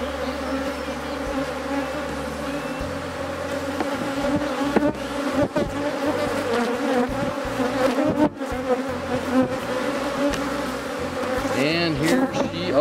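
A honeybee swarm buzzes around a fence post where the bees are drawing out comb, a thick, constant drone of many wings close by, with individual bees zipping past loudly now and then.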